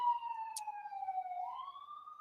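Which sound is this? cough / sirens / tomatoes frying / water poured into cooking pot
sirens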